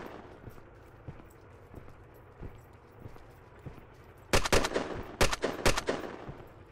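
Rapid gunfire from a weapon in the online shooter Red Crucible: Firestorm, starting as faint distant pops and then erupting into loud, close bursts of repeated shots in the last few seconds, with no talking.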